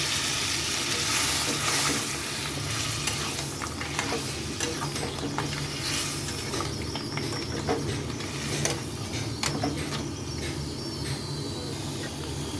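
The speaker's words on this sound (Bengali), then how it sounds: "তো এখানে আমি পরিমাণ মতন জল দিয়ে দিচ্ছি" Spicy Bengali crab masala sizzles and bubbles in a pan as water is added, a dense steady hiss with scattered crackles and pops heard close up.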